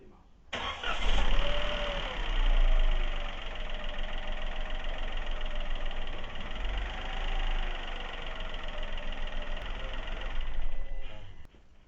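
A Peugeot car with a PureTech petrol engine cranks and starts, then settles into a steady close idle with slight surges, running evenly for about ten seconds before shutting off.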